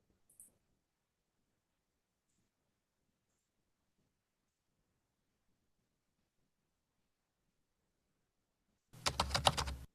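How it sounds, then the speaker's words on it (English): Brief burst of computer keyboard typing, a quick cluster of close key clicks lasting about a second near the end of an otherwise near-silent stretch. "Let's get ourselves a typing sound."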